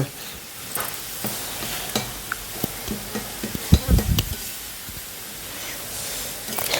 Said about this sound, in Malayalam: കുറച്ച് നേരം അങ്ങോട്ടും ഇങ്ങോട്ടൊക്കെ ഒന്ന് ഇളക്കി ഉലർത്തി